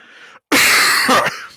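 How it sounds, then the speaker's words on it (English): A loud, close cough bursts out after a soft throat sound, followed by a second rough cough. "This cough's kind of pissing me off right now"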